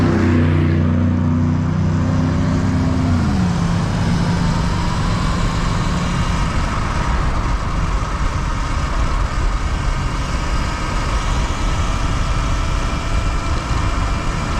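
Car traffic passes close by an e-biker riding in busy traffic, with a low engine drone that slides down in pitch as a vehicle goes by, then a steady broadband road and wind roar that continues to the end.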